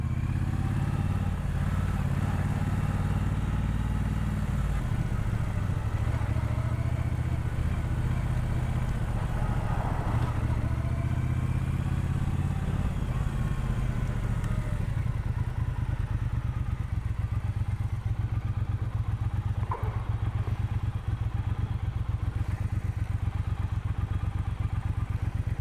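A Triumph Speedmaster motorcycle engine drones steadily while riding, a continuous low rumble with wind and occasional clunks, no speech present.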